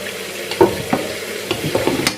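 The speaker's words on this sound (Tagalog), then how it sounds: "check natin tong niluluto natin pork" Pork frying over medium heat in a pan, a steady close sizzle broken by a few scraping stirs, loud and continuous with no talk.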